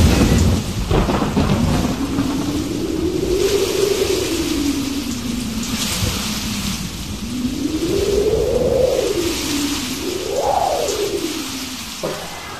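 Heavy rain pours down during a typhoon thunderstorm while long rolls of thunder swell and fade again and again. Wind may add to the steady roar, and no one speaks.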